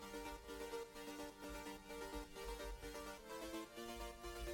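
Layered synth chords with a moving, rhythmic third synth part adding motion, sustained and steady throughout with a low pulsing underneath, playing alone without voices in an electronic dance track.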